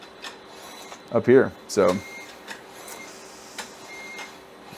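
A Phyzbatch 9000 trading card sorting machine whirs and clicks in short mechanical bursts, with two louder pulses near the start, faint against room noise and a brief spoken aside.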